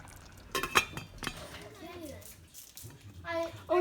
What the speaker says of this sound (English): all my pots and pans are in the oven, so it sounds crazy just trying to get the lid out